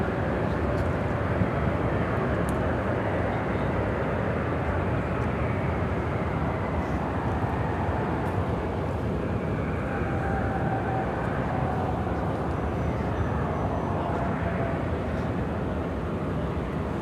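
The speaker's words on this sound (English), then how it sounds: "operated by Envoy 3942, taking off to Des Moines on the E-170" An Envoy Embraer E-170 jet departs Chicago O'Hare for Des Moines, its engine noise a steady, rumbling roar holding for the full stretch with a faint rising whine midway.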